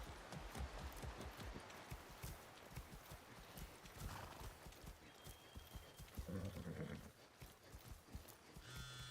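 Steady, rhythmic video game horse hooves clip-clopping on hard ground in Far Cry 6, with faint background tones and no talking.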